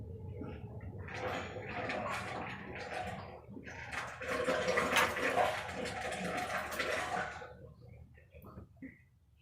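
Waste engine oil is poured from a half-full bucket into a waste oil tank in a shop, a gurgling, sloshing flow in two surges with a brief pause between, close by.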